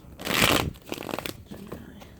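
Tarot cards being shuffled by hand: a dense, close riffling burst early on, then a scatter of lighter papery slaps and flicks as a couple of cards slip out and fall.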